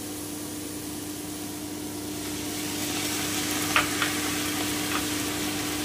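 Spinach and stems sizzling in a pan of oil alongside fried eggplant, a steady close frying hiss that grows slightly louder midway, with a few faint clinks near the end.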